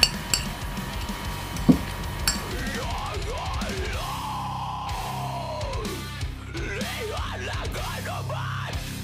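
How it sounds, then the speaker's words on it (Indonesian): Instant fried noodles mixed with chili in a bowl are stirred with cutlery, making soft clinks and scrapes, a few sharper taps near the start, while a voice with swooping, sliding pitch carries on over the stirring. "Kita aduk-aduk."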